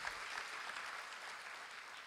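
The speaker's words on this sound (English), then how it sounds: "May I request that we give Her Right Honorable another round of applause" An audience applauds after a public lecture, giving a steady round of clapping from many hands that holds evenly for the full two seconds and sounds somewhat distant.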